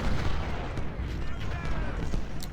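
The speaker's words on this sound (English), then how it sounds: "just going to double down with my artillery over here" Artillery firing in the Civil War strategy game Ultimate General: Civil War, heavy low booming rumble rolling continuously with overlapping distant cannon shots, and someone speaking beneath it.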